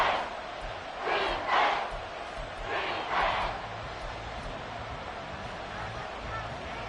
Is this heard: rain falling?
no